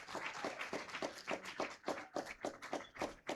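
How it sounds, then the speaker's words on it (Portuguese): Audience applause at a public youth dialogue event, a quiet, fairly distant patter of clapping hands with irregular bursts and no voices over it. "Uma forte salva de palmas"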